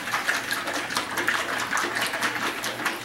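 Soylent drink sloshes inside a pitcher during one quick, vigorous shake, a steady close-up swishing of liquid lasting a few seconds.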